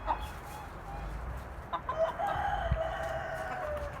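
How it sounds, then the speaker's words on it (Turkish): Rooster clucks and calls faintly amid a low outdoor hum, with a short crow-like call rising near the middle. "Horozu içeri alacağım."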